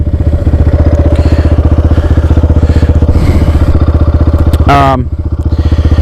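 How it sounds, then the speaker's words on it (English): A GPX FSE250E dual-sport motorcycle chugs steadily through deep swamp water, its engine note close and continuous, with a brief revving surge near the end. "I'm riding through what I thought was a not so deep swamp that is becoming a relatively deep swamp"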